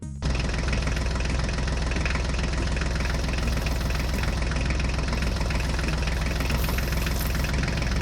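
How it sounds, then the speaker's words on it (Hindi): A Swaraj tractor engine runs steadily with a loud, rough diesel rumble and knocking throb, close by and unbroken for the whole stretch, with no voices. "अब ये अपने स्वराज ट्रैक्टर को लेकर जाएंगे"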